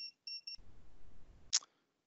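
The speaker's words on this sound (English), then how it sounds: "it will give you a minimum level beeping sound" A signal leakage meter at a cable headend gives a few short high beeps, then a brief rumble of handling noise and a single sharp click-like beep at the end.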